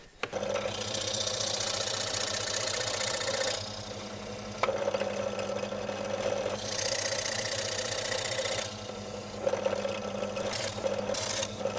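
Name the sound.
drill press drilling into wood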